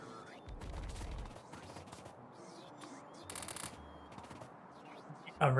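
Automated gun turrets in Factorio firing in quiet bursts of rapid, clattering shots, with brief pauses between volleys and a sharper, louder burst at the very end.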